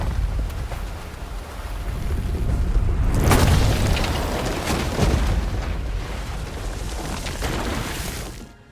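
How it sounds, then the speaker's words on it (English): A deep whooshing burst as Gris breaks through a statue's head in the video game Gris, a rumbling swell that peaks sharply then sustains as a broad roar before cutting off. "Gris bursts through the head of the statue and soars upward, accompanied by invigorating music"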